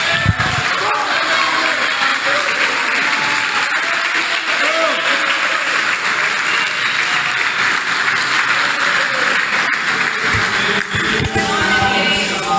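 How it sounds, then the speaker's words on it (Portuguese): A church congregation applauds during a sermon, with loud, sustained clapping and crowd noise holding steady throughout. "pode até aplaudir a Jesus, porque isso é fé"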